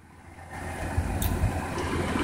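A Ford F-150 truck with the 4.9 engine idles nearby as a low, steady rumble. The level rises slightly partway through, with a brief high tick near the middle and no talking.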